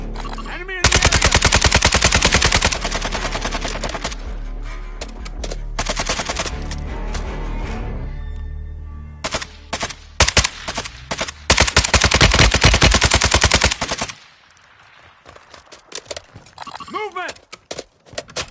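An RPK light machine gun fires in Warzone II, loud sustained bursts of rapid automatic shots broken by short gaps and single trailing rounds, with game voice callouts between volleys.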